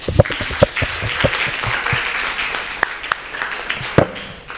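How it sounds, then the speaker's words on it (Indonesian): A class gives a short round of applause, scattered claps of varying loudness with a few sharp louder ones over a murmur of voices. "Kita berikan tepuk tangan dulu."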